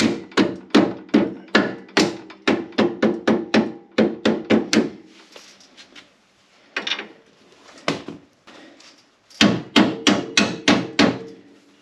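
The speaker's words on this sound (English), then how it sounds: "Tap that bolt in there" A hammer taps a bolt into place during a 2025 RZR 800 S rear axle install, with quick runs of sharp, close metallic knocks separated by short pauses and a brief lull.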